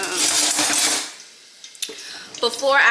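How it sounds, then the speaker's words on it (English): A utensil breaks up onions in a hot pot of jollof base with tomato paste, giving a dense burst of scraping and clattering, then quiet, then a few sharp metallic clinks against the pot. "I'm breaking up the onions"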